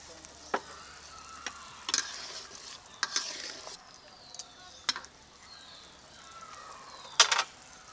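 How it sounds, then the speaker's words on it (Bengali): Lentil dumplings go into a simmering duck egg curry and are stirred, giving quiet, scattered scrapes and clinks of a utensil against the pot over a faint background. "ঝোলটা ফুটতে শুরু করেছে এখন বড়িটা দিয়ে দিচ্ছি"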